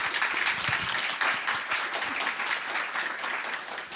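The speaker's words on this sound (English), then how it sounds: "let's get a round of applause for the panel." A symposium audience applauds a panel, with dense, steady clapping from a large crowd that fills the room evenly from start to finish.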